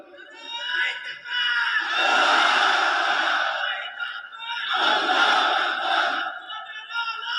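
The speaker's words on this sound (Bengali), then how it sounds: "তাকবীর পড়েন তো দেখি, আল্লাহর নামে পড়েন, লিল্লাহে তাকবীর।" At an Islamic waz mahfil sermon gathering in Khulna division, a vast crowd of worshippers shouts the takbir in two long, loud, massed roars, each swelling and fading over a couple of seconds.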